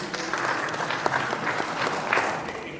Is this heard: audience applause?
yes